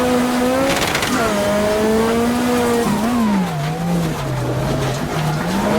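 Lancia Delta S4 Group B rally car engine in a racing game on a mountain road, revving hard and continuously with a rising, falling tone through gear changes, a brief tire squeal near the start, loud and close throughout.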